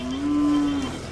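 A Khillar cow at a cattle market gives a single low, drawn-out moo, close and clear, with no talking over it.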